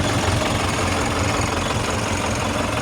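A DF 404 tractor engine runs steadily with a dense, low, rumbling drone and an even knocking throb that holds constant throughout, loud and close, with no voices.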